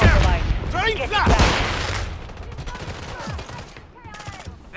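Call of Duty Modern Warfare 3 multiplayer combat: loud, dense bursts of automatic gunfire and booms crowd the opening seconds, then die down, while voices shout over the battle.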